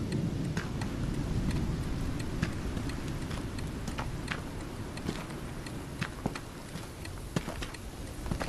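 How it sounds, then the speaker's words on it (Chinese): Rain falls steadily as a continuous broad hiss, scattered with crisp ticking drips that land irregularly throughout. "真下雨啊！"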